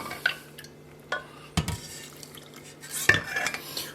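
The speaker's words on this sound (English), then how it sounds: "continue to scrape the bottom so that things don't like stick and burn on" A spoon stirs risotto alla Milanese in a pot, with a few scattered scrapes and clinks against the pot bottom over a quiet background hum.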